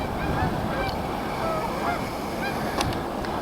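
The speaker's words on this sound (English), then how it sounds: "The geese are starting to leave here as I approach." A flock of geese honks continuously as the birds take off during a winter bird count near Lethbridge, many overlapping calls fairly close over a rushing background of wingbeats and wind.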